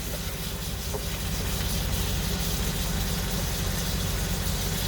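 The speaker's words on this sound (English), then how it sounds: "Get the meat sizzling." Steady, loud sizzling and hissing of meat frying in butter fills the clip without a break.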